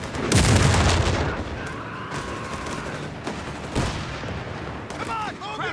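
Dense gunfire and artillery boom through a Company of Heroes 3 Italian campaign battle, with a heavy burst at the start and further rolling shots and impacts across the scene.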